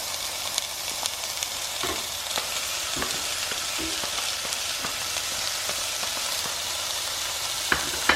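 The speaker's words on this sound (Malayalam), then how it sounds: "മുറിച്ച് വെച്ചിരിക്കുന്ന വെജിറ്റബിൾസ് ഓരോന്നായിട്ട് നമുക്ക് ഇടാം" Cut vegetables sizzle steadily as they fry in a pan, a dense, even hiss with occasional soft knocks and stirring clatters, near and continuous, with no voices.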